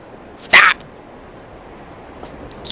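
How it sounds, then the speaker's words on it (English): A dog gives a single short, sharp bark outdoors amid brush-cutting, loud and close, followed by quiet background noise. "What is this dog doing?"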